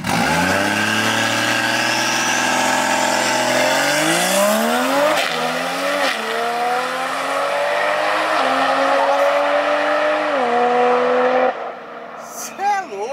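A 1000 hp car skids sideways across a test-day track, its engine roaring loud and close with a long rising tire squeal and pitch sweeps, then cutting off toward the end; voices are faintly mixed in.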